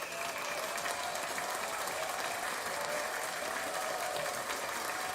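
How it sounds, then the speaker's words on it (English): Hand clapping applause, a steady, moderately quiet patter of many claps at an even density throughout, with no talk. "Let's give a hand clap to that."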